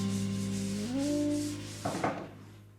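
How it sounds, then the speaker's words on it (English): Painted wood is denibbed by hand with 240 grit sandpaper. A few soft, close rubbing strokes are heard, ending with two brief scuffs, and there is no talking. "everything gets denibbed with 240 grit"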